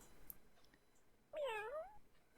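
A single short cat meow from a Barbie flash game, clear and close, rising then falling over about half a second against faint background hiss.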